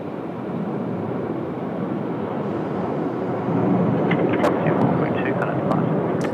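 Jetstar airliner from Cairns on short final to runway 34 right at Sydney Airport on a windy night, a loud steady broadband jet roar that swells slightly, with a voice speaking over it.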